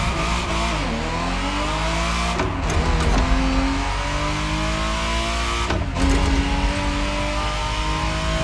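A Ferrari Testarossa engine revs hard and close, a loud, continuous mechanical roar with climbing pitch interrupted twice by brief gear-change dips.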